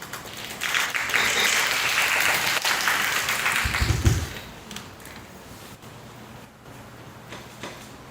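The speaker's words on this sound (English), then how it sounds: "Please give them a big applause." A room full of people at a high school student conference claps steadily for several seconds, the applause thick and even before thinning out and fading toward the end.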